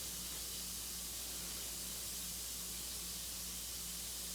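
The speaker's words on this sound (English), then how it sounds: "And it's bubbling so much it's going onto my table." A bath bomb fizzes and bubbles in warm water, a soft steady hiss with no breaks and no speech, constant throughout.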